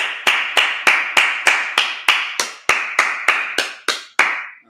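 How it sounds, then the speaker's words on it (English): A church congregation at a Sabbath service claps in unison: about fourteen sharp, evenly spaced claps in a steady rhythm, close and clear, with no talking. "Let's clap it up."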